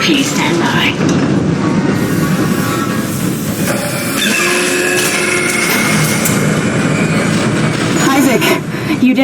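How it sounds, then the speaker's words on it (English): A damaged tram car in the Dead Space video game moves along its tracks with a steady rumbling, clattering rail noise and mechanical whines, loud and continuous throughout, with game voices over it. "Replacing damaged tram car."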